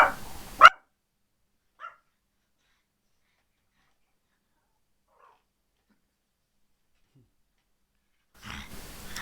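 A pet dog indoors barks in a short burst, followed by a faint single yip and then a long silence before another brief burst of sound at the end.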